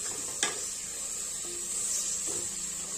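Mint and a handful of coriander leaves being stirred into mushroom biryani in a pan, giving a soft steady sizzle with faint scraping and a couple of light utensil taps, close and fairly quiet.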